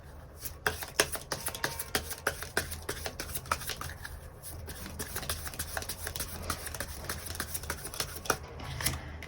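Tarot cards being drawn and handled in a quick series of crisp, close flicks and snaps over soft background hum, with no talking.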